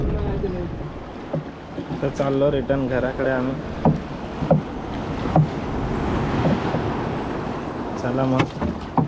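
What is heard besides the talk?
boat ride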